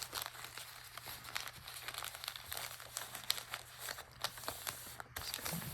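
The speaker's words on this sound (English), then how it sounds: "I had this piece of wrapping paper that I thought I would put over top of everything." Wrapping paper is crinkled and pressed flat by hand, giving a continuous, fairly faint rustle and crackle with scattered sharper crinkles throughout.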